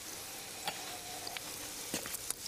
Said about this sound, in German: Das kocht jetzt ein.